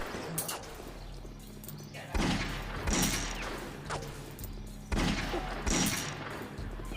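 Gunfire in an Ottoman gendarmerie (Zaptiye) setting: two pairs of heavy, booming shots, each pair close together, with a few seconds of quieter rumbling background between them.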